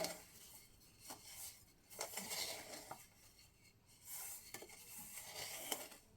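Spoon scraping and clinking around a pan as rava laddu mixture is stirred off the heat, intermittent metallic scrapes with quieter gaps, close and fairly soft.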